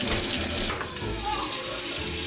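Tap water running hard into a kitchen sink while greens are washed, a loud continuous rush that briefly dips and shifts as the leaves are moved under the stream, no talking.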